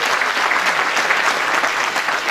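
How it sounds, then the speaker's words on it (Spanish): Dense, steady applause from an audience at the closing address of the 100th Congress of the Federación Rural, filling the room at a constant loud level with no individual claps standing out. "Muchas gracias por el aplauso."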